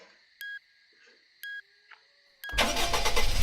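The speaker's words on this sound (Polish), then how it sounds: "Odpalam samochód." A car engine starting in a Roblox video game: two short electronic beeps and a brief chirp, then the engine catches abruptly and settles into a loud, steady rumble.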